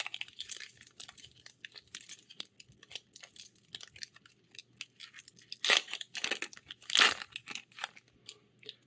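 Crinkly foil wrapper of a Magic: The Gathering Phyrexia: All Will Be One booster pack being torn and handled, with rapid close rustles and crackles building to two sharp tearing bursts near the end.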